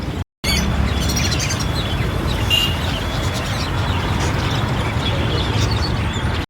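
Several caged birds chirp and tweet repeatedly over a steady background rumble at the Thrissur skywalk, with bright calls scattered throughout.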